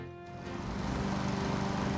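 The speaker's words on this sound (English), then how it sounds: "With the engine running, push the lawnmower forward in the direction you want to mow." A Honda HRR2169PKA lawn mower engine runs up to speed and holds a loud, steady buzzing drone close by.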